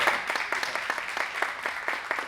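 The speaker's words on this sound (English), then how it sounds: "You can clap for that." At a school district parent meeting, a small audience claps in a sparse, uneven patter of individual hand claps, fairly close and with no talk over it.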